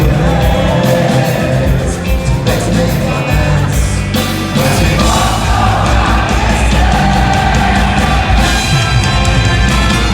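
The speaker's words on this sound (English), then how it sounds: "The crowd are right into it," A concert crowd at a ska-punk show roars and sings along, a loud dense wash of yelling voices over the band's music throughout.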